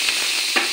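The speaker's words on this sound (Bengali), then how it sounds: "ডিমটা ফোড়নের সঙ্গে মিশিয়ে নিই।" Eggs and fried potatoes are stirred into sizzling spices in a pan for Bengali egg curry, giving a continuous close frying hiss with a few soft scraping strokes of the spoon.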